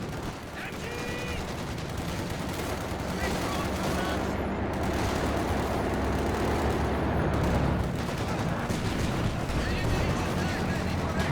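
DShK heavy machine gun fire in Company of Heroes 2, in a dense, continuous wall of battlefield gunfire and artillery rumble that holds loud and steady throughout.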